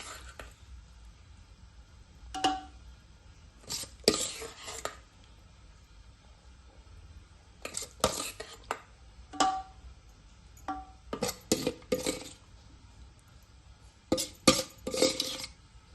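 A spoon mixing layers of paneer biryani in a metal pot makes quiet, irregular scraping clinks and clatters in short bursts with pauses between, set against a faint, near-silent kitchen background.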